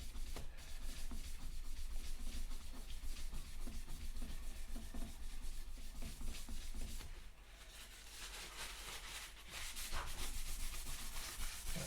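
Soft, quiet rubbing strokes as conditioner is worked into a wooden guitar fretboard with a cloth, repeating in an uneven back-and-forth rhythm, close and faint.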